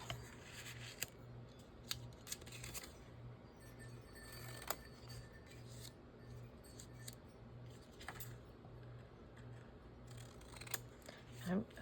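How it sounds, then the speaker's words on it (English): Scissors snip along rough fabric edges in a quiet room, a few soft scattered cuts and clicks heard faintly over a steady low hum. "I need to trim up the edges where they're rough"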